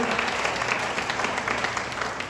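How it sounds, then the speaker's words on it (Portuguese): A church congregation applauds continuously during a service, a dense steady wash of many hands clapping at moderate distance, without break for the whole moment. "Vamos aplaudir bem forte o nome do Senhor nesse lugar."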